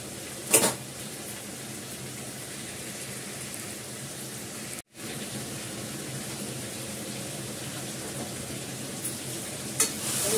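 Meat sizzling steadily as it fries in oil in a pan, a continuous close crackle with a brief stirring clatter near the start and a short gap midway.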